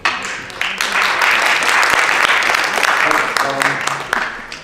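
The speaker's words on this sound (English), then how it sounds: "I want you guys to hold the applause until the end after everyone has spoken" Audience applause at a student election debate, loud and steady clapping from a crowd that swells and then thins out, with a few voices mixed in near the end.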